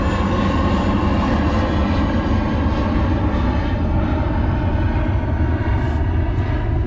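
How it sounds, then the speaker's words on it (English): A fixed-wing airplane flying overhead, its engine a loud, steady broadband roar that fills the whole stretch without letup, close and dominant with no other sounds breaking through. "Come on, plane."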